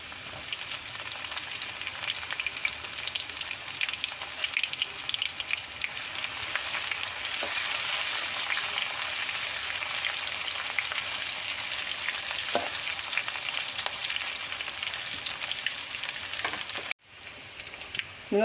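Garlic, ginger and green chili fry in a pan for Kerala-style kadala curry, a continuous crackling sizzle lasting many seconds with a brief break near the end.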